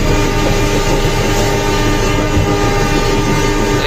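A local Merak train runs at speed between Cilegon and Krenceng stations, with a loud, continuous rumble of wheels and carriages and a sustained horn blast carrying through.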